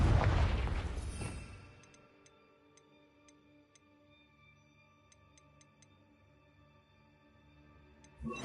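A Confringo blasting spell explosion from a Hogwarts video game, a loud opening blast that fades over about two seconds, leaving faint ticking and a quiet hum, with another burst starting at the end.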